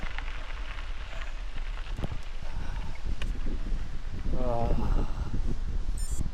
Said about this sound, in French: Et le vent.